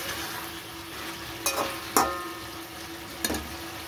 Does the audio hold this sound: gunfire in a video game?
no